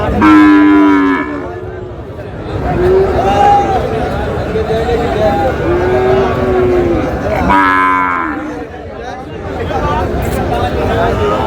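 A Sahiwal calf moos loudly several times, long drawn-out calls near and clear, with a busy crowd chattering in the background at a cattle market.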